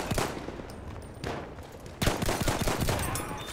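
World War One rifles and machine guns fire in the Battlefield 1 video game, with loud repeated shots and rattling bursts, a dense burst starting partway through over a continuous battlefield rumble.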